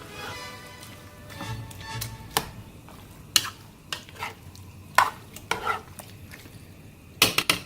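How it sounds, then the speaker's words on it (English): Pozole ingredients get mixed in a pot, with irregular scraping and clanking strokes against the metal, some sharp knocks standing out, close and without talk. "Okay, we'll start to mix that all around."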